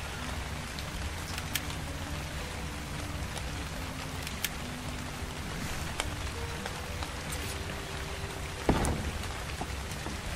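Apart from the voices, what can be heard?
thunderstorm rain in the video game Ark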